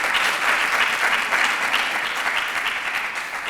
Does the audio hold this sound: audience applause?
yes